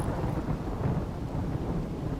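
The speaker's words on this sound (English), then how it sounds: "It's still raining, so I think we're okay." Rain and rolling thunder from the video game Rimworld form a continuous, moderately loud wash with low rumbling underneath. No voices are heard.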